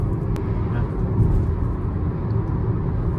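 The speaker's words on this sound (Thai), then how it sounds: "เสียงรถบรรทุก" A low, steady rumble of a truck rolls past, heard muffled from inside a BYD Dolphin Standard Range car.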